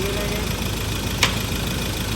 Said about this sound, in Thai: ตอนนี้เครื่องยนต์สตาร์ทติดแล้วนะครับ